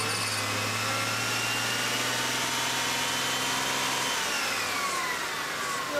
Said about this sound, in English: So we're going to run this idle up,